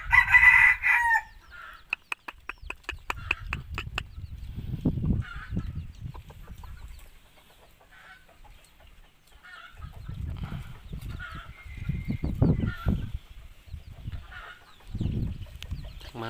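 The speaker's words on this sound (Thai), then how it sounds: "สายเหลืองไก่ต่อบ้านๆเฮา" Yellow-feathered decoy rooster crowing, a loud nearby cock-a-doodle-doo followed by soft clucking and low rooster vocalizations that come and go, with quiet pauses between them.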